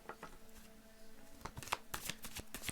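Tarot cards being shuffled by hand, a rapid riffling flutter that builds into several sharp snapping bursts near the end, close and clear with no talk.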